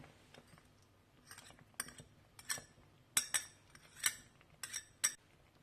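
A spoon clinks and scrapes against a pot while milk pudding for Kemal Paşa dessert is stirred, with sharp metallic taps arriving in irregular clusters over a quiet background.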